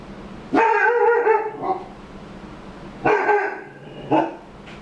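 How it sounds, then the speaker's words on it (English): A dog barks in two short bursts separated by a pause, each a loud, close bark followed by a smaller yip, with quiet room tone between. "He's barking at something random outside."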